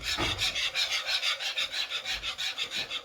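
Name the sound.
whisking cheese sauce with nutmeg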